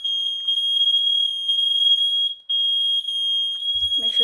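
Kidde i9010 and fireX i4618ac smoke alarms, set off in a box with a humidifier, shriek in a loud, piercing, rapidly pulsing beep that breaks off briefly, then resumes as a voice and handling noise come in near the end.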